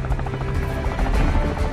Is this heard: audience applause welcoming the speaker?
no